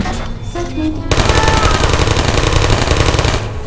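Rapid, loud turret machine-gun fire from the video game Portal, kicking in abruptly after a brief quieter lead-in and running as a dense, steady burst of shots that tapers off at the very end.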